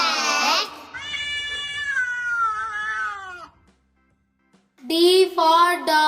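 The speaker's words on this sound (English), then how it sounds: "C for cat." A cat meows several times, loud and close, with long drawn-out cries, a brief silent pause, then a few more meows.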